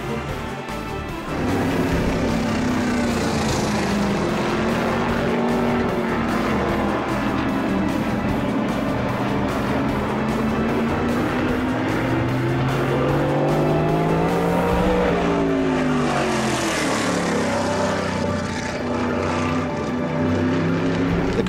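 A Hawk Jr. Super Modified race car with weak brakes laps Oswego Speedway in open practice, its engine a loud sustained roar rising and falling through the corners, swelling as it passes close by.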